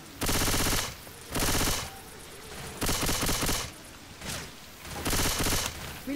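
Left 4 Dead 2 gameplay in the Hard Rain campaign, with loud automatic gunfire coming in four sustained bursts separated by short gaps. No one speaks.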